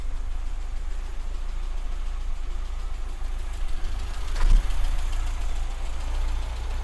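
A low-mileage Metro car, started for the first time in years, runs with a steady low engine rumble at idle, with a brief swell and knock midway before it settles back into an even hum.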